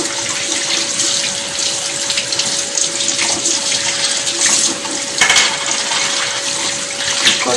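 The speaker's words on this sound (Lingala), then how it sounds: "Kosukola maboko na ngai boye." Tap water runs in a strong, continuous stream during handwashing, with faint splashing and shifts in the flow as hands move under it.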